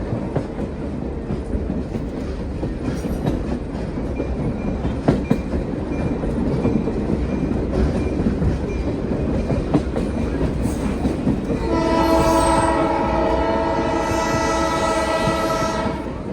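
A passenger train on a museum heritage ride at the California State Railroad Museum rumbles steadily along the rails with clickety-clack and a loud horn blast near the end, heard from on board.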